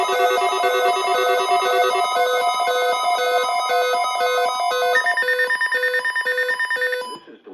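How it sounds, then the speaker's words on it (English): NOAA Weather Radio warning alarm test tone plays as loud, steady electronic tones whose pitch shifts partway through, alone without speech, before stopping abruptly near the end. "The weekly test of the NOAA weather radio warning alarm"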